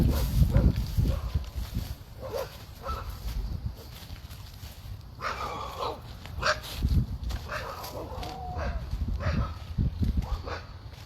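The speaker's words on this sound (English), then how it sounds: "I solved the mystery of the dogs barking." Several dogs barking from a wooded area in hot Texas weather, a mix of barks, yips and whimpers at varying distances, in irregular bursts throughout with outdoor background noise.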